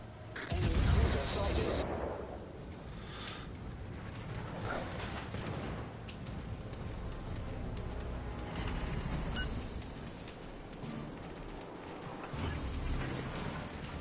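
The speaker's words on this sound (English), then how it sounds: "Which means I'm going to go ahead and shoot." Gunfire in a naval war video game, with ships' guns and anti-aircraft fire heard as a continuous rumble of booms and blasts, strongest at the start and mixed with game noise throughout.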